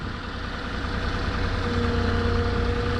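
A Moffett truck-mounted forklift engine idles at a steady, close, continuous rumble while the forks are drawn in, with no break over the few seconds.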